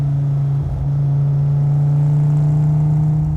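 A 568 wheel-horsepower Dodge Viper SRT-10 engine holds around 3,000 RPM in second gear. It makes a loud, close, steady drone with a strong low hum that climbs slightly in pitch near the end, with no talking.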